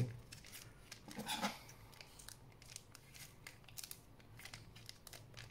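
Scissors snip open a Pokémon TCG Indonesia Sword & Shield booster pack, with a crisp cluster of cuts and crinkling foil packaging at close range, followed by quieter rustling handling.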